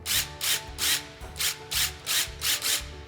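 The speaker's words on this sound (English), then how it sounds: "Gee, this drill sounds good." A power drill driving screws to fix curtain brackets to a wall, heard as a run of about seven evenly spaced, loud, whirring bursts with short pauses between them.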